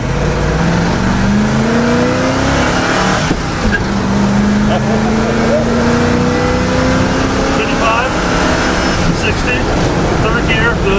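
A truck fitted with a swapped boat motor pulls hard on an open road outside town, its engine note climbing loudly through the gears with rising whines and brief pauses at the shifts.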